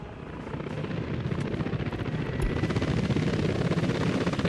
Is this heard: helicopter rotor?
yes